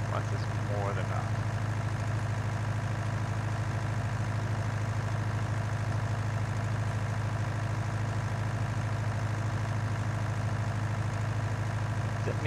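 Tractor engine idling in the Farming Simulator 19 game, a constant low droning hum at steady volume under a game soundscape.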